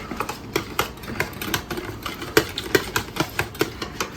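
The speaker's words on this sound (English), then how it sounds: "I whisk, and I'm just gonna whisk it in here like this." A whisk clicks rhythmically against the side of a bowl while yogurt is beaten, a quick series of sharp, evenly spaced taps heard close up.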